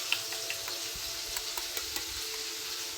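Fish fries in hot oil while the cook prepares rice alongside, a soft steady sizzle with a few faint ticks and pops, quiet and unaccompanied by speech.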